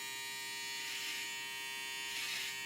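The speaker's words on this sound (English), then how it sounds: "take this is like a shaver, and it's got one of these trimming edges on the back that pops up" An electric shaver with a pop-up trimming edge buzzes steadily while trimming a beard, a close, constant high-pitched whine with slight swells, no talking.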